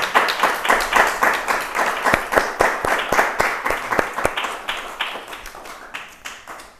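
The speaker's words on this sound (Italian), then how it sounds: "Facciamo un applauso a Maria Teresa." Audience applause for Maria Teresa at an experiential piano concert of meditation music, many hands clapping in a steady sustained burst that thins gradually toward the end.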